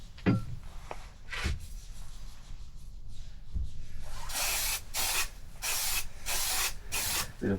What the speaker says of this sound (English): Bit of brake cleaner.